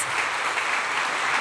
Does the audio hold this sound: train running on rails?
no